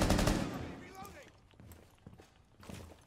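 Rapid gunfire from Rainbow Six: Siege opens loud and close, then breaks into scattered shots and footsteps while players talk over it.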